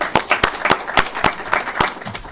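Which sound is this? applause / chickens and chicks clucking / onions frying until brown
applause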